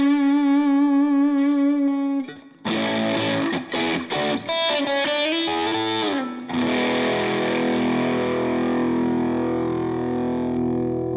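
Electric guitar played through distortion on a Line 6 POD Express amp modeler, starting with a sustained held chord, then a burst of chopped, gritty riffing and bends before settling into a long ringing distorted tone, loud and alone.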